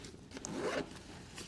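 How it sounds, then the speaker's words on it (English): A zipper on a Tomtoc 28L travel carry-on backpack pulled open in one steady, close, fairly quiet run lasting about half a second, with soft rubbing of fabric before and after. "let's open up from here. I'm looking for the zipper"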